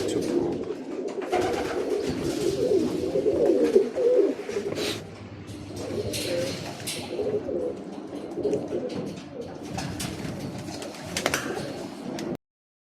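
Birmingham Roller pigeons coo in soft, continuous overlapping murmurs, moderately close and steady throughout, with faint rustling and no talk.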